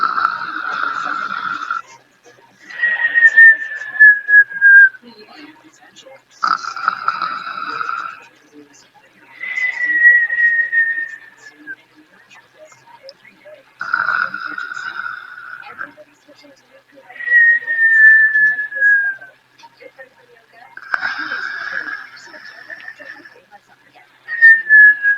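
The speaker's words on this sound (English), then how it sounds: "And now for Princess Rosario's throw and whistles." Princess Rosario's throw and whistle sound effects from the video game Super Mario Party Jamboree: short bursts alternate with gliding, descending whistles in a repeating pattern, clear and close, with brief silent gaps between.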